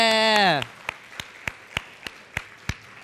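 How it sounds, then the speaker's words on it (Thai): A tutoring-show audience gives a round of applause after a teacher is introduced: a sustained voice or tone fades out, then sharp, evenly spaced single claps ring out one after another, about three per second, with no talk over them. "ปรบมือดัง ๆ ให้คุณหน่อยค่ะ"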